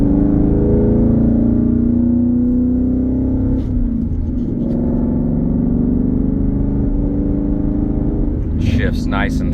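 A 2020 Ford Mustang GT with an MBRP aftermarket exhaust drives along with a loud, steady low engine drone and rumble, and the pitch shifts near the end.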